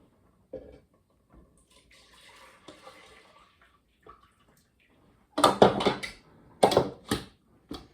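Raspberry liquid poured out of a cooking pot, with a few soft clinks first and then two loud splashing gushes near the end, close by.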